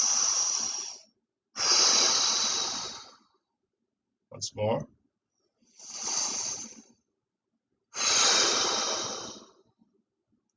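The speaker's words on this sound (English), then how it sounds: "I want you to take a deep breath." Slow, deep yoga breaths drawn in and let out, four long airy inhale and exhale swells separated by pauses, close and clear, with a short spoken cue between them.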